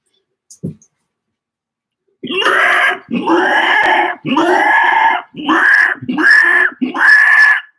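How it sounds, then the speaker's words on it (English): Pigs squealing in a loud, close series of six harsh, drawn-out squeals with short gaps between, preceded by a faint brief grunt. "Those are pig sounds."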